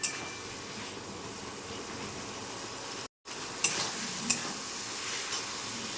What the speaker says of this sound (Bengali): এবারে আমি পরিমাণ মতো ঝোলের জলটা দিয়ে দেবো।